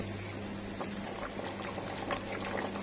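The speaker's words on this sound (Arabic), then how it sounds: "خلاص بدأ الفول اهو يستوي خالص، بس هنسيبه شويه كمان" Fava beans simmer in a pot for bissara, bubbling softly and continuously with a faint, even rolling boil.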